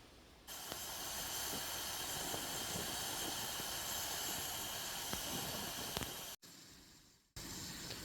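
A Firemaple camping stove fitted with a heat exchanger roars steadily at close range while boiling water, a loud, even hiss that cuts out briefly near the end and then resumes.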